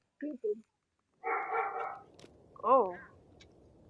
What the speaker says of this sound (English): My dog is being vicious right now. He just barked.